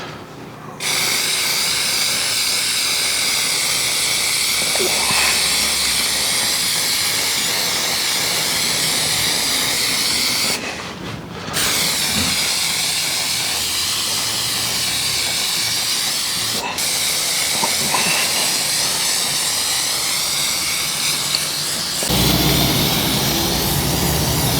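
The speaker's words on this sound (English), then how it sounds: "we do that not spraying 90 degrees on, but at an angle, so that we get the black Plastidip around and inside each of these little corners here" Aerosol can spraying black Plastidip onto a car badge, a loud continuous close hiss held in long bursts with two brief breaks between passes.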